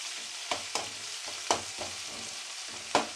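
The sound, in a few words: ginger garlic paste frying in a pan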